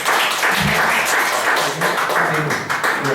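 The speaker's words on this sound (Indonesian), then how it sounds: "Aplaus dong ya untuk Bapak ya." Audience applause for a man at an event, a dense steady wash of clapping running throughout with voices mixed in.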